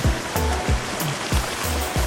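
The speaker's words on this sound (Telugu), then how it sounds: "చూడండి ఫ్రెండ్స్ ఎంత అద్భుతంగా పోతున్నాయో వాటర్." Water rushes at the Puli Gundalu waterfall as a dense, close, unbroken roar. Soft low thumps recur about three times per second beneath it.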